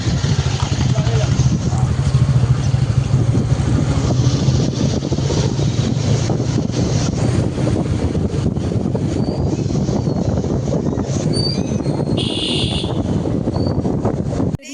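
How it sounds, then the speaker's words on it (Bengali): Two motorbikes ride along a narrow inner village road, their engines a steady, loud drone masked heavily by continuous wind buffeting the microphone throughout. "আমরা দুটো বাইকে যাচ্ছি শুধু ভেতর রাস্তা দিয়ে।"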